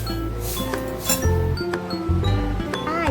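Clear drinking glasses clink together several times in sharp, ringing taps as they are set out, heard close over a steady musical background.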